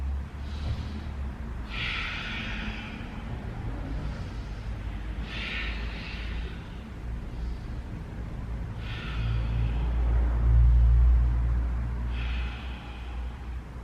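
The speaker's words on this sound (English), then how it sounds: "And we'll take 5 breaths here." Slow, deep breaths during a yoga pose, four full inhale-exhale cycles spaced a few seconds apart, close and audible over a low rumble of room noise, with no talking.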